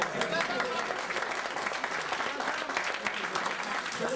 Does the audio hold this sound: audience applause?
yes